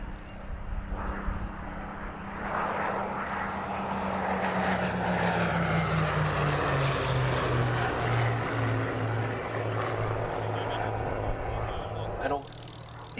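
A Hawker Hurricane propeller fighter roars past at the Wings Over Illawarra airshow, its loud engine drone sliding lower in pitch as it passes, with a commentator speaking over it.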